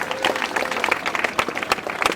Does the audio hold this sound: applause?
yes